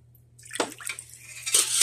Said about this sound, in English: I'm going to ladle this in here a little at a time